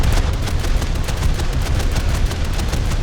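Naval guns in War Thunder firing at a distant cruiser, a loud, dense barrage of booming shots running continuously throughout with no voices.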